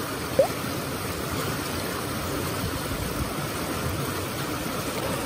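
A clear stream flows steadily outdoors, a constant broadband rush and trickle of water, close and even throughout, with no voices.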